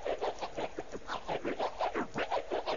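Back-and-forth vinyl scratch from the FL Studio scratcher plugin, a steady run of quick, rhythmic swipes about four per second, moderately loud and alone with no talking.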